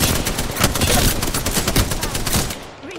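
Rapid automatic gunfire fills a shooter video game match, dense volleys of loud close shots with no pause until a brief tail at the end.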